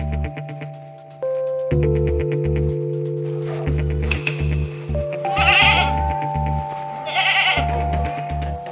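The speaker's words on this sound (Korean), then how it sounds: "염소 들어갔어." Goat bleating on a rural farm, several close, wavering bleats in quick succession over a low tonal background.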